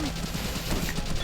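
An engineer opens fire in Valkyria Chronicles, a short, rapid rattle of game gunfire with a faint tonal hum underneath, heard as a brief burst.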